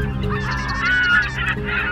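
Seagulls call near a school, with loud, nasal, honking cries that overlap and rise and fall, fairly close and with no talk.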